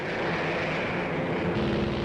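Engines of WWII bomber aircraft in flight over Germany in 1944, a steady dense drone that fills the whole moment without pause.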